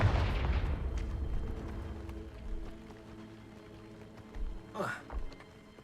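Confringo fire spell cast during combat in Hogwarts Legacy, a short burst of three quick blasts near the end, following a louder stretch of explosive rumbling and a voice at the start.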